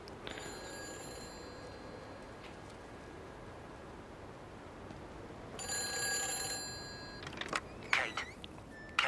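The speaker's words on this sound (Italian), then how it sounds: "C'è un altro telefono che squilla." Telephone ringing in the Everybody's Gone to the Rapture game, a steady electronic ring under a faint hiss, then louder bursts of ringing and a few clicks near the end.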